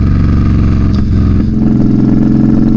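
A Yamaha Bolt cruiser motorcycle being ridden on a road, its engine a steady, loud low rumble throughout with slight shifts in pitch as it runs.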